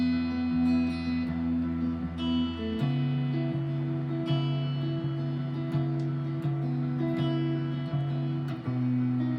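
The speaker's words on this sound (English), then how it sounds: "What you can also do is you can do one of the Travis patterns that we've done and apply it to these chord shapes." Acoustic guitar played fingerstyle in a Travis picking pattern over chord shapes, a steady alternating bass under plucked treble notes, close and clear with no talking.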